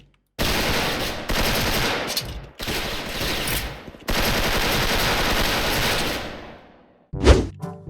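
Sustained bursts of rapid automatic M4A1 rifle fire in the video game Special Force, loud and continuous, separated by brief pauses, ending with a single sharp bang.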